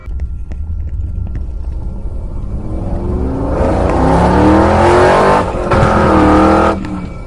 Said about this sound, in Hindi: रॉड बाइक को काफी तेज भगाता है